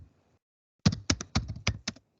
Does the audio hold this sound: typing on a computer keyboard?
yes